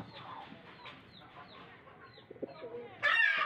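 Pigeons coo and flutter close by inside a coop, with scattered soft calls and a burst of wingbeats near the end.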